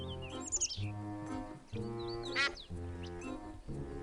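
A duck in the game Escape from Monkey Island gives a few nasal, chirpy quacks in quick bursts, close and clear, with a musical score running beneath.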